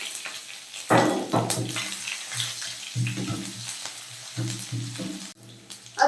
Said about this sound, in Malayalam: നമുക്ക് ഒരു 2-3 ചെറിയ ഉള്ളി ഒന്ന് അരിഞ്ഞെടുത്ത് ചേർത്ത് കൊടുക്കാം.